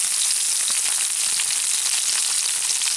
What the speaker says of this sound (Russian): Жареный налимчик.